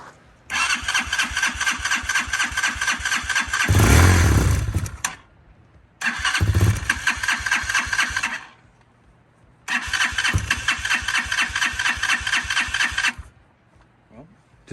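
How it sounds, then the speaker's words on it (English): The starter on a Hawk 250 motorcycle cranks in three long bursts with the throttle held slightly open. Each burst is a loud, rhythmic whirring churn, and the engine catches briefly with a rough roar in the first two tries before stopping. "Hold the throttle just cracked open as you hit the start."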